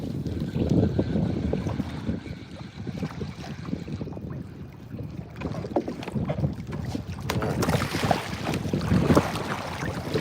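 Wind gusts over open water around a kayak on a fishing trip, a steady loud rushing with buffeting on the microphone and small water and hull noises throughout.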